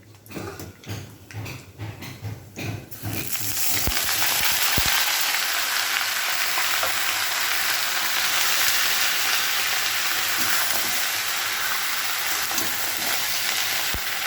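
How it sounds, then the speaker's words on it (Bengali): Bottle gourd greens being cooked with moong dal in a pan, a few seconds of rhythmic stirring taps, then a sudden loud burst of sizzling as the greens hit the hot oil, holding steady and close. "এবার শাকগুলো ঢেলে নেবে"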